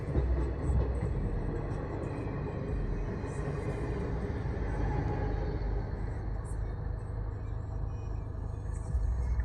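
Low, heavy rumble of a train rolling past a level crossing nearby, steady and continuous, with faint voices and traffic noise around it.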